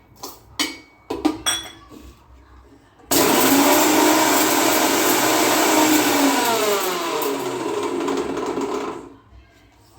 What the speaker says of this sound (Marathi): हे थंड झाल्यानंतर आपल्याला मिक्सरमध्ये बारीक करायचं आहे